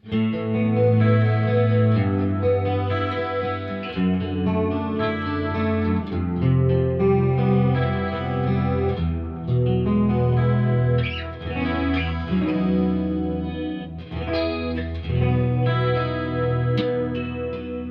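Electric guitar with magnetic and piezo pickups, in coil-split tone, rings out chords and melodic lines with a chorus-like shimmer and light distortion, played continuously without any voices.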